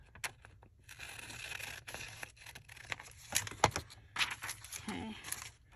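A paper guest check is cut with scissors for a journal, giving crisp snips and rustling paper in irregular bursts, close and fairly quiet.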